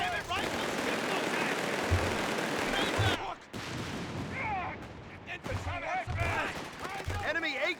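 Heavy machine gun fire in Company of Heroes 3, with a road defended by a German HMG and anti-tank gun: dense rattling gunfire and distant blasts fill the scene while soldiers shout orders over it.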